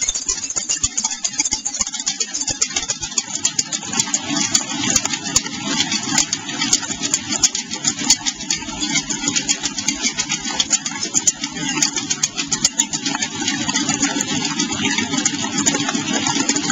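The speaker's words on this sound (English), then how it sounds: "I'll just start whisking in the stock now" A mixer whisks egg yolks with sugar syrup for pavlova in a hotel kitchen. It makes a continuous motorized whir with a light rattle, steady and close throughout.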